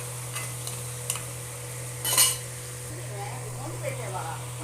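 Prawns fry in a pan with a gentle steady sizzle over a low hum, with a few spoon clinks and one brief louder scrape of stirring.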